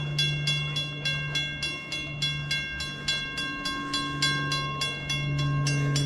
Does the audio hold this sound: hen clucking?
no